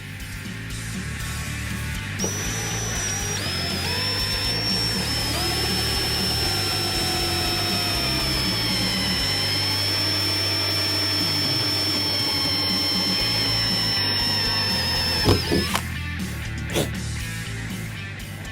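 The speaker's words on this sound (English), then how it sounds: "now we're going to drill this hole out again, starting with a pilot bit" A power drill with a pilot bit drills out a hole for a carbon-fibre rear spoiler on a 2015-2017 Ford Mustang Fastback: a steady, loud high-pitched whine for about thirteen seconds over a constant mechanical hum, then a few clunks.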